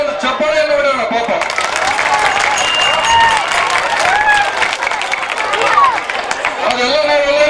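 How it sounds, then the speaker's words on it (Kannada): Loud audience applause for village folk theatre performers of a Devi Mahatme play, dense clapping mixed with whistles and voices calling out, sustained throughout at close range. "ನಮ್ಮೆಲ್ಲರ ಪರವಾಗಿ ಒಂದು ಚಪ್ಪಾಳೆಯನ್ನು ಹೊಡೆಯೋಣ ಪಾಪ"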